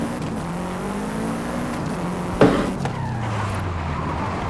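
A Subaru WRX STI in Forza: a close engine drone rises and falls with shifting pitch, a sharp thump midway, then it keeps revving steadily, with no talking over it.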